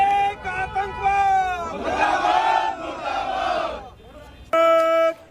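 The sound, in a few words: protest crowd chanting slogans against Islamic extremism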